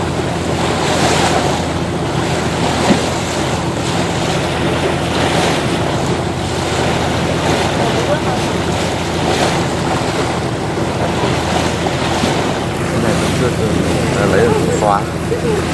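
River water washing against a boat as it travels downstream from Ninh Kieu wharf toward the Cai Rang floating market in Can Tho, a steady broadband wash with wind noise and a low engine hum throughout.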